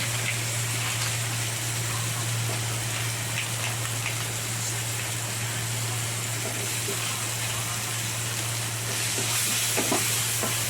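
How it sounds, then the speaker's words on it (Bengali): Spices with salt and cumin powder stirred and fried in a pan for sweet corn chilli, giving a steady, even sizzle with faint scraping throughout, with no talking. "ভালো করে মিশিয়ে দিচ্ছি, একটু ভেজে নিচ্ছি"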